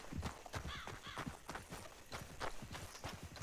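Horse hooves clip-clop in a steady, quick rhythm in the video game Red Dead Online, fairly close, with a faint whinny partway through.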